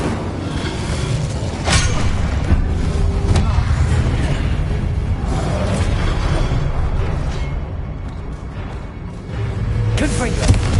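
An Incendio fire spell cast in Hogwarts Legacy, loud booming magical bursts and whooshes recurring over about ten seconds, with a voice speaking over the game sounds.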